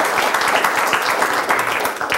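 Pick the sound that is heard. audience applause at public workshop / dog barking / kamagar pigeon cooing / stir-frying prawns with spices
audience applause at public workshop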